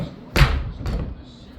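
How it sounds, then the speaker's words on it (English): A drawer in a hotel room at TownePlace Suites Bowling Green pushed shut, landing with one sharp thud and a softer second knock close by. "these drawers, I have closed those 17 times in the 7 minutes that I've been here"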